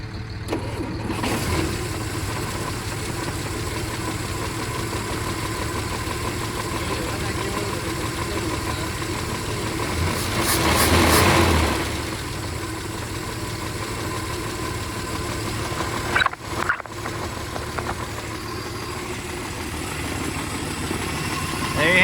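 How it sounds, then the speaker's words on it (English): Old military ambulance engine idling steadily after years unused, a continuous low rumble with a brief surge in revs partway through and a short interruption near the end. "There you have it, it's idling."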